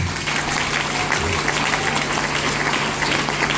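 A congregation applauds during a church worship service, a steady, dense wash of clapping that fills the room, with a low hum running underneath.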